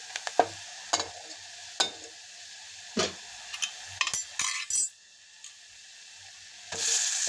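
Potato bhaji with coriander powder, red chili powder and garam masala being sautéed in a pan, a series of sharp scraping strokes from a spatula over a faint sizzle, ending in a brief louder hiss.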